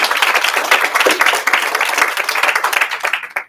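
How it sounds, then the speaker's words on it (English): Dense, steady applause from an audience at a fireside chat event honoring sponsors, many hands clapping loudly and continuously before tapering off at the end. "So big round of applause for our sponsors."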